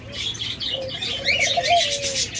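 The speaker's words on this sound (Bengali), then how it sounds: "পর্যাপ্ত পরিমাণ ডায়মন্ড ঘুঘু পাখি রয়েছে" Diamond doves in breeding pairs cooing softly in their cages, a few gentle rising coos layered over bright chirping from many caged birds nearby.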